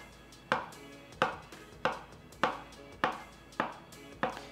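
Knife thinly slicing a ripe avocado on a cutting board, seven evenly spaced sharp taps, close and fairly quiet, with no talk.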